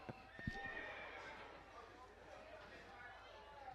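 A horse whinny rings out at a college football game, fairly faint and under a commentator talking, with a few sharp knocks early on.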